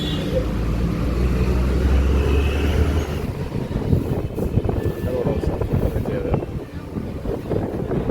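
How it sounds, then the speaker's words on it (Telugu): Low, continuous vehicle rumble from a traffic jam in Bengaluru, steady and fairly loud throughout, with wind buffeting the microphone and a voice talking over it. "ట్రాఫిక్ స్టక్ అయిపోయినాం గైస్"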